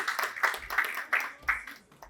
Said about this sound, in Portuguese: Por favor, uma salva de palmas para o Otávio.